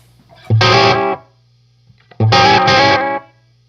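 Two bursts of electric guitar chords ring out through an Analog Alien Rumble Seat and DM-2 analog delay, each sustaining about a second before stopping, with a low hum lingering in between.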